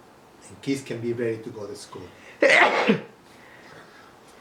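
A single sharp sneeze bursts out right after someone finishes speaking, close and loud, followed by quiet.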